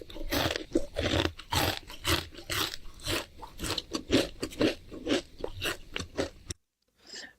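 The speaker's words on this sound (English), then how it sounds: "Whenever you hear crunchy sounds, even though you're full, you kind of feel like hungry." Loud, crunchy chewing and biting right up against a microphone, a rapid irregular run of crisp crunches and wet chews that stops abruptly into silence near the end, with no talking.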